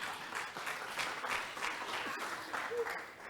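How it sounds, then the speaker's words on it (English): An audience applauds at a live chat event, steady broadband clapping from many hands filling the room throughout, moderately loud with no voices over it. "Let's give him a round of applause."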